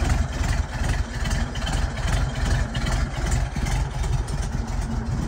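A vehicle engine idles steadily near its exhaust, a loud, constant low rumble with a slight smoky sputter, running alone without pauses.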